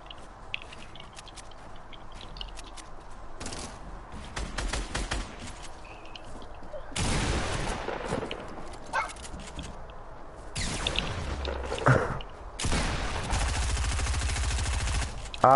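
Loud bursts of automatic gunfire in a video game tear through a player-built structure, arriving in several dense, close volleys separated by quieter stretches.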